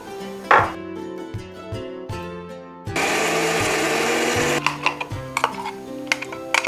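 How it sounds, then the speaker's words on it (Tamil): A kitchen mixer grinder whirs through garlic, ginger and onion in short pulsed bursts, then a long sustained loud grind, followed by rattling clatter of the jar and lid. "இப்போ நம்ம பூண்டு, இஞ்சி மற்றும் வெங்காயத்தை அரைச்சி எடுத்துக்கலாம்"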